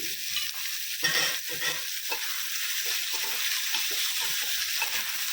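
Onion frying in oil with turmeric gives a loud continuous sizzle, with stirring scrapes and bubbling pulses rising and falling close by throughout.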